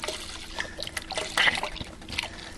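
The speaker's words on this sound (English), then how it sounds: "We'll put the rest of the stock in here." Stock trickles and splashes as it is poured into a pot of homemade tomato soup, a short, close liquid pour with small sloshing bursts.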